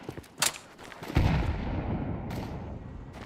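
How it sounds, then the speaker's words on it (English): Grenade blast in Counter-Strike 2, a few sharp gunshot cracks followed by a heavy booming explosion that rolls on and decays over the following seconds. "I'm throwing a grenade."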